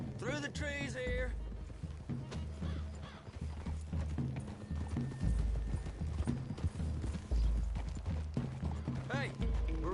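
Horse hooves clip-clop steadily on the ground in the Western video game Red Dead Redemption 2, several horses moving together at a walk, mid-distance and fairly soft, with a brief whinny and game music or talk blending underneath.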